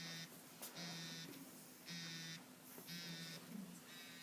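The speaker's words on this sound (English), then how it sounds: "Your alarm is going off again." An alarm timer beeps in repeated short electronic pulses about once a second, faint and steady in a quiet room.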